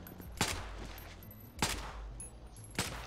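Three sharp bursts of gunfire from a GTA 5 zombie apocalypse mod, evenly spaced about a second apart, loud and close over a low steady game background with no talking.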